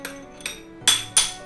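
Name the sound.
Makita 17mm chisel hammer test run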